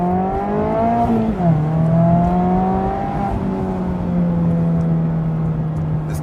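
A Mazda Miata ND3's engine revs hard and close, its rising whine dipping briefly at a gear change before climbing and holding a strong, steady drone.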